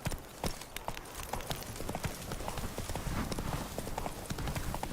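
Horse hooves clip-clop at a steady gallop in The Witcher 3, a continuous close rhythmic pounding of hoofbeats filling the whole stretch with no talk over it.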